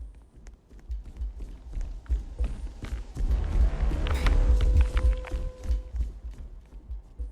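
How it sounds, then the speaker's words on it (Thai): Creature footsteps running in the Roblox game Color or Die: rapid thudding steps that build to a loud, close rumble in the middle and then fade, with no talking over them. "แต่เริ่มได้ยินเสียงเท้ามันดิ"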